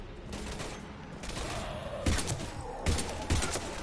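Gunfire from a firefight against husks in the video game Mass Effect 3, with a steady rattle of battle noise broken by several heavy, close shots and thumping impacts.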